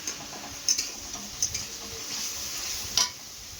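Leftover fish curry heating in a pan gives a soft steady sizzle, with a few sharp ticks and taps of a utensil against the pan, close and without speech.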